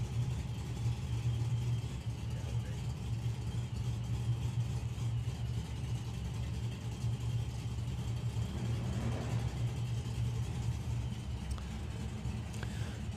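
A drag racing car waits in the pairing lanes at a drag racing event, its engine giving a steady, loud, continuous low rumble with no break across the whole stretch.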